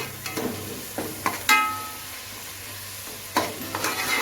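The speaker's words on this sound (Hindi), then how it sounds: "अब इसे मैं भूनूंगी" Ground spices including mace and chicken frying in ghee for Delhi-style chicken pulao, a soft steady sizzle with several sharp clinks and scrapes of a spoon stirring the pan, close and without talk.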